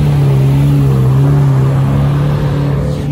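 Lamborghini Murcielago engine revving loudly up close on a city street, a deep sustained roar with a strong steady tone that holds for a few seconds and eases slightly at the end.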